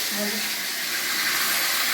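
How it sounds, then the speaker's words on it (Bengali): Fish fries in a pan with a steady, even hiss of sizzling oil, close and continuous, with a faint low tone briefly at the start. "এবার মাছটা ভাজা বসিয়েছি"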